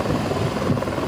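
A National Guard helicopter flies over flash-flood rescue operations in Kerr County, Texas, giving a steady, dense rotor and engine drone that fills the brief moment with no talk.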